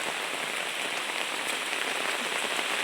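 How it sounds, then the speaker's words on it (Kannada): Heavy rain pours steadily over a village during the monsoon season, a dense, even hiss with no break and no voices. "ಇವತ್ತು ಮಳೆ ನಿಲ್ಲೋ ಹಾಗೆ ಕಾಣ್ತಾ ಇಲ್ಲ."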